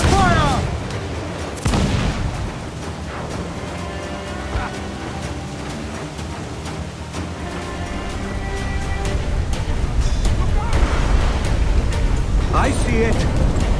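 Ship cannons fire in Assassin's Creed IV: Black Flag during a naval battle, a series of heavy booms and blasts over churning water and engine-like rumble, with shouted voices mixed in throughout.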